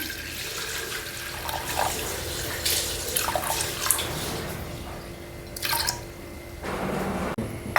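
Water is poured into a pressure cooker holding white beans, with uneven splashing gushes and drips that come in several bursts, near and moderately loud, heard alone without talk.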